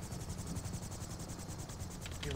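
Helicopter rotor from the video game GTA, a steady rhythmic low thumping chop with a constant whine above it, continuous and fairly close throughout.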